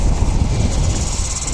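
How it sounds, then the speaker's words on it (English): A Dash 8 turboprop arriving from Blenheim and landing at Wellington gives a steady, loud broadband engine roar that holds without a break, with some wind noise on the microphone. "got a little Dash 8 coming in from Blenhiem next."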